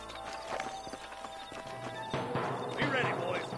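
Horses in the Red Dead video game clop their hooves steadily and let out a whinny near the end, mixed with voices talking over the hoofbeats.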